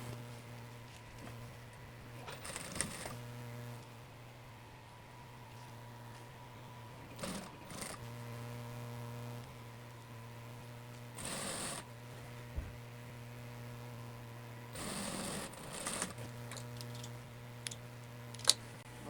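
A sewing machine stitches the lining of a pleated Oxford skirt in several short runs of rapid ticking, separated by pauses with a low steady hum, at moderate distance and fairly quiet.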